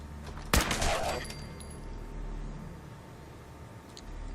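Unsuppressed gunfire in Fallout 4, one sharp loud shot burst near the start with a short crackling tail, then a low ambient rumble for the rest of the clip.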